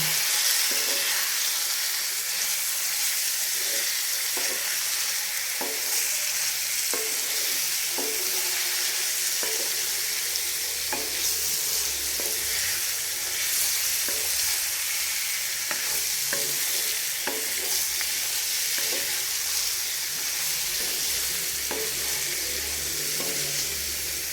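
Salt-marinated chicken coated in spice, masala, pepper, coriander and cumin powders frying in a pan, a loud, even sizzle with regular soft stirring taps, close up and without speech.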